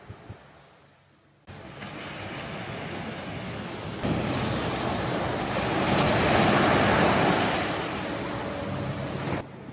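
Surf rolls onto Crystal Bay beach on Nusa Penida, a steady broad wash of breaking waves with wind buffeting the microphone, quiet at first and then swelling loud and continuous.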